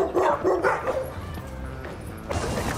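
Dogs barking and yipping as they play together on a rooftop in Birmingham, Alabama, a run of close, loud barks early on, then fainter scuffling and whimpers, with a brief burst of noise near the end.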